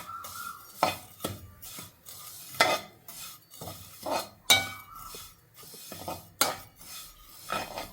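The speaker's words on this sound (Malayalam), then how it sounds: "ഇത് വറുത്ത സേമിയാണ്, എന്നാൽ നമുക്ക് നെയ്യിലിട്ടിട്ട് നന്നായി വറുത്തെടുക്കാം" Repeated scraping strokes of a spatula in a pan, coming at a steady rhythm, with a soft sizzle of vermicelli frying in ghee underneath.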